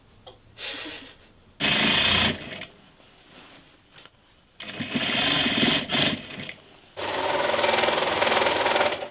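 A sewing machine stitches the sleeves into a dress being made for a runway show, running in loud, close bursts of steady rapid whirring that stop and start several times, with quieter handling sounds in the gaps and no speech.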